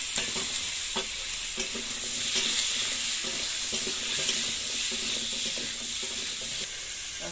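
Small mourola fish frying and being stirred in a pan with potatoes just added, a steady close sizzle broken by repeated scraping strokes of the spatula throughout.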